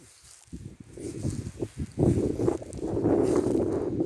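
Dry, cold wind blowing outdoors in a rural village in Rayong province, Thailand, in the morning, a steady broadband rush that builds and stays loud, with no talk.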